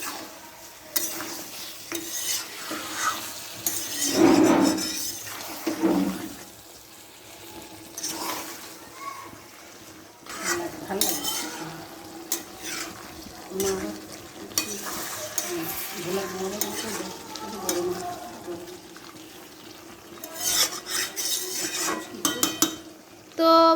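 Meat being stir-fried in a pan with spices, with steady sizzling and scraping of a spatula against the pan, continuous and close, with occasional clinks.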